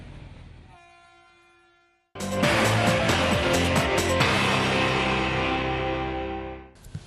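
A train running on a Vietnamese railway line, heard close and loud as a sustained roar with rumbling wheels and a tonal horn-like blare after a quieter opening hum, fading at the end.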